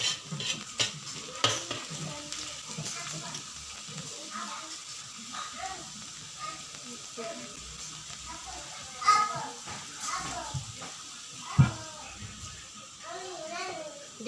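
Kangkung sizzles in a pan over browned garlic and is stirred with steady scraping and clinking, close and fairly quiet, while people talk and children's voices carry in the background.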